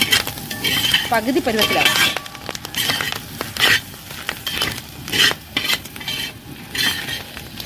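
Clam meat fries in a pan with a steady sizzle while a spoon stirs and scrapes it, giving repeated metallic clinks and scrapes at close range; a voice speaks briefly over the cooking.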